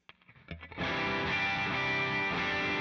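A Telecaster electric guitar on the bridge pickup plays through a low-gain lead tone from an amp kit, a few picked notes ringing into a sustained, bright, treble-heavy chord that holds steady and loud.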